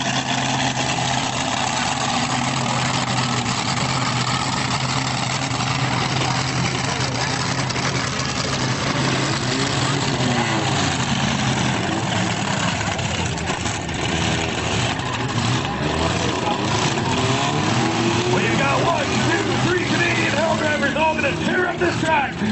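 The Toasaurus Rex monster truck engine rumbles loud and steady at a Canadian Hell Drivers stunt show arena in Reading, Pennsylvania, in 2004, with a deep continuous drone and slight swells in pitch throughout.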